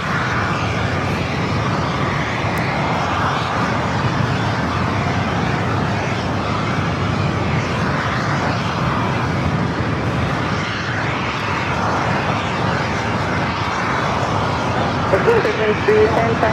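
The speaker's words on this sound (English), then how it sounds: "Followed by SAS, the A330 coming from Copenhagen" SAS Airbus A330 arriving from Copenhagen at Los Angeles LAX, a steady loud roar of jet engines filling the whole stretch under a spoken commentary voice.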